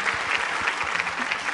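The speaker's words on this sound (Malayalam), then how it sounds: "ആദ്യം ഒരു കയ്യടി" Brief burst of steady clapping from a studio audience applauding a singer on a TV singing show, dense and continuous.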